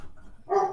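A dog barks in a short burst near the end, fairly close and loud, after a quiet moment of low room noise.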